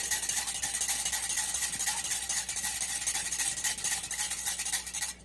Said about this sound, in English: So you're just going to whisk everything together.